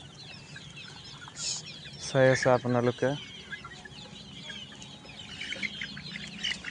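Free-ranging local desi chickens cluck in a short burst of several rapid calls near the middle, with a person speaking briefly and faint outdoor birdsong around them.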